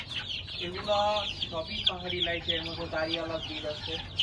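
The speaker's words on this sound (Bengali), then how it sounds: "এটা খুব চাহিদা সম্পন্ন মুরগি" Fancy-breed chickens on a Bangladeshi poultry farm cluck and chatter close by in a lively run of short repeated calls, with faint background noise throughout.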